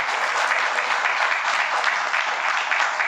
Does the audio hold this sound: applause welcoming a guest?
yes